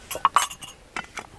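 Tea glasses clink together at an outdoor picnic where chicken and tagine are being cooked, giving a few sharp, close glassy taps in quick succession with no talking.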